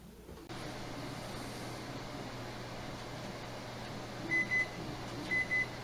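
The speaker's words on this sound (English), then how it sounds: "Timer's going off." A kitchen microwave or oven hums steadily while its timer goes off with two pairs of short electronic beeps near the end.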